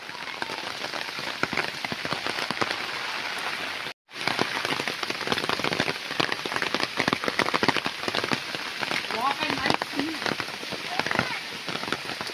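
Steady rain pours down, a dense hiss of drops close by, continuing with only a brief pause.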